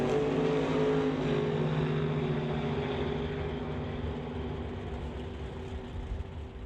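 A 1953 Corvette doorslammer drag car roars through a pass at a Canada West Doorslammer drag strip, its steady, loud engine drone holding throughout and easing off slightly near the end.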